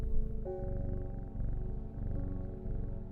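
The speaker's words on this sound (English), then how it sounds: "I really appreciate the purr sound effect" A cat purrs in the puzzle game Strange Horticulture, a steady low rumbling purr that runs continuously at close range over a soft tonal game backdrop.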